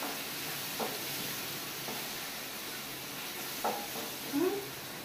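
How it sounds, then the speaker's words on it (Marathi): Green masala paste for a Konkani egg masala frying in hot oil, a steady close sizzle and hiss broken by a few soft stirring scrapes and brief clinks, fairly quiet with no voices. "पेस्ट बरो हांगा तेलान हातून फ्राय करून घेवपाचो."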